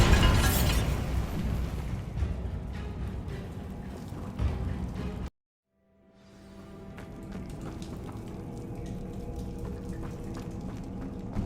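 A Bombarda spell blast in the game Hogwarts Legacy, a loud explosive burst up front with crackling rumble and debris, then a sudden cut to silence before a softer ambient wash returns.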